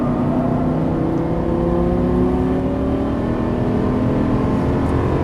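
Lamborghini Gallardo on a track session, engine pulling steadily under throttle with rising harmonic tones, loud and continuous close inside the car, no talk.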